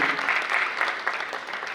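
Audience clapping for a woman being honoured by a Bhopal socio-cultural society at a dance-drama festival, a steady dense applause across the whole stretch with no voices over it.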